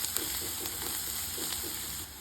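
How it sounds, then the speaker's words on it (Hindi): Finely chopped onions fry lightly in a pan for a yogurt-potato curry, giving a steady close sizzle with soft stirring scrapes and no talking. "तो चलिए पहले हम प्याज को हल्का सा 1 मिनट तक भून लेते हैं।"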